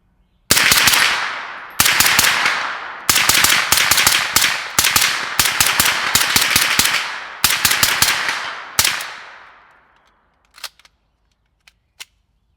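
Gunshots from a Zenith firearm using Winchester white box 115 grain ammunition ring out in several rapid strings of close, very loud sharp cracks. Each string ends in a long decaying echo, and a few faint clicks follow at the end.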